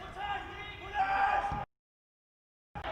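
During an under-23 football match, Wolves against Middlesbrough, a player screams after a late challenge: a loud, strained cry rises amid shouting on the pitch, then the sound cuts to silence before a brief return.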